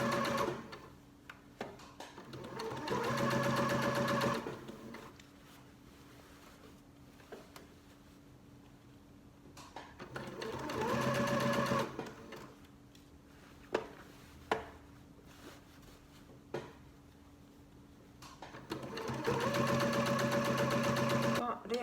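A sewing machine stitching a square handbag seam runs in three separate bursts of steady, rapid whirring, with pauses between them filled by someone talking and a few sharp clicks.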